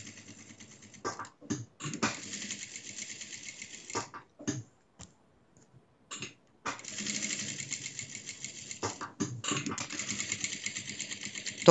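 Sewing machine backstitching along the ear of a cloth rabbit, with bursts of fast stitching broken by short stops and brief taps, then a longer steady run, heard close.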